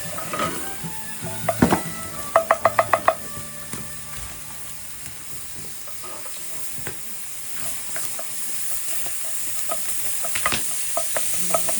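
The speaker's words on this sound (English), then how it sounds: "So the onions and the garlic's all fried up good." Onions and garlic frying hard in a pan for an Irish stew cooked outdoors, a steady close sizzle with a quick burst of metallic clinks and stirring scrapes early on, then continuous crackling frying on its own.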